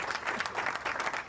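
A small group claps steadily in a studio during a talk show, the applause fairly faint and continuous, with no speech over it.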